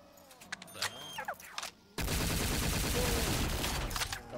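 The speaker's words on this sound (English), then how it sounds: "It's a shotgun. It's called the DCMA." The DCMA shotgun fires in modded Black Ops 3 zombies: scattered game sounds and clicks, then a sudden loud, dense blast of gunfire that roars on without pause.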